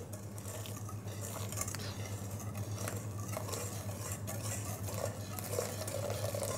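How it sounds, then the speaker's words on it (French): Milk poured slowly onto egg yolks and sugar for vanilla crème anglaise while being whisked, a continuous soft swishing and light scraping with a low hum behind it. "On va verser, mais vraiment délicatement, un quart du lait sur nos œufs ici. Et je mélange en même temps."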